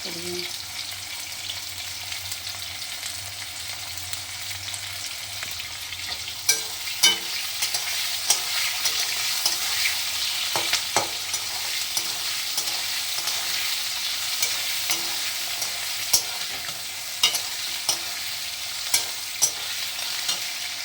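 Onion fries and sizzles in a pan with mustard and green chilli paste, a steady bright hiss broken by scraping stirs and occasional spoon clicks against the pan.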